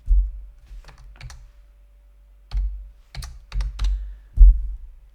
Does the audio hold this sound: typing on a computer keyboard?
yes